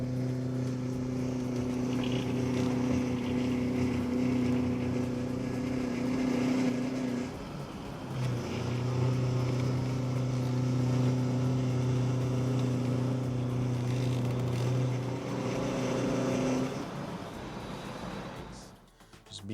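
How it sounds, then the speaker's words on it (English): Steady tonal whine with a low hum from the leaking steering rack of a Mercedes E350 CDI Coupe, continuous and fairly loud, dipping briefly midway and fading near the end, with no talk. "I will show you the sound from the steering rack"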